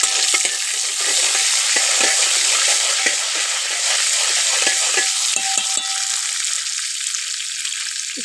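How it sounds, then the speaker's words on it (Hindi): Cumin seeds crackle and sizzle in hot oil in a pan, a continuous dense frying hiss with occasional stirring scrapes and taps, close and steady throughout. "इसमें मैं डाल लेती हूँ जीरा।"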